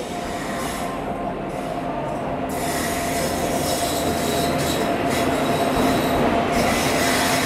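The Jodhpur–Varanasi Marudhar Express pulls into a station with a loud, continuous rumble of wheels on rails. A high-pitched wheel squeal sounds close and steady throughout.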